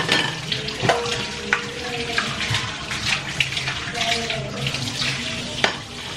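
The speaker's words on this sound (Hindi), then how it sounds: "यहाँ पे बस अपने बर्तन वर्तन धो रही थी" Tap water runs steadily while dishes are washed in a home kitchen sink, a close, continuous splashing rush with occasional clinks and knocks.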